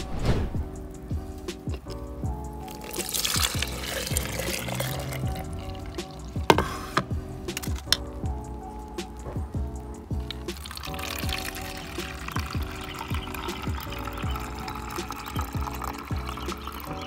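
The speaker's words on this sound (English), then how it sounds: "then we're going to strain this and add it to our spray bottle" Liquid homemade hair-growth mixture strained and poured into a spray bottle, giving a steady close trickle and splash with small drips and clinks throughout, no talking.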